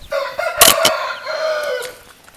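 A white rooster of the parrot-beak chicken breed crows once, clear and close, with a strained, rising call and a few sharp bursts inside it.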